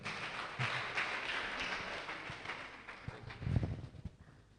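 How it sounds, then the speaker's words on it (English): An audience at a green chemistry workshop claps in a dense, fairly faint ripple of applause that thins out toward the end, with a few scattered, louder knocks and taps late on. "Please, can we clap for her?"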